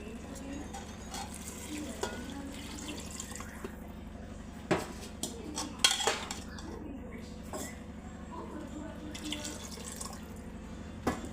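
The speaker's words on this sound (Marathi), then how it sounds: "त्याच्यात दीड पटीनं आपल्याला याच्यामध्ये पाणी घालायचं आहे" Water splashing and pouring into a pot of rice, fairly quiet, with a few soft clinks and drips over a steady background hum.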